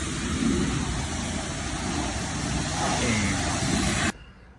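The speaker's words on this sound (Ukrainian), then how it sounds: "Машинка миється." A high-pressure spray washes an Opel Vectra C at a car wash, a dense loud hiss that runs steadily before cutting off abruptly near the end.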